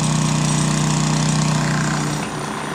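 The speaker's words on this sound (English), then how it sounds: "You can hear all the jackhammering over next door at the house they're putting up in the air." Steady, loud machine drone from house construction next door, where a building is being raised up, with a strong low hum running almost unbroken and dipping slightly near the end; no talking.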